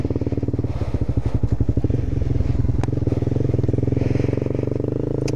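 A Honda CBR 250 motorcycle being ridden hard, its engine droning loud and close with a steady pulsing beat and rising revs throughout.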